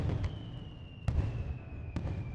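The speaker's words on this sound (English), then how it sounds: "Familiar sights and sounds of summer fireworks livened up the night sky." Summer fireworks burst in the night sky in a visual novel game, three sharp separate bangs, each trailing off into crackle, over a faint steady background tone.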